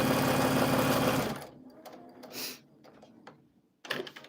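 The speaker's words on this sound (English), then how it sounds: "So we're going to sew this on one side, and then we're also going to sew another strip on another side." A sewing machine runs steadily for just over a second, stitching a fabric strip onto one side of a quilt block, then stops, leaving quiet handling sounds and faint rustles.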